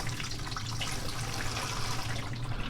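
Water gushes steadily from a campervan grey water tank bottle as air pressure pushes it out, a continuous close-up splashing flow with a low steady hum beneath it.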